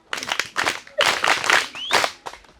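An audience at a school foundation event claps in several short, uneven bursts with brief gaps between them, lively and fairly close.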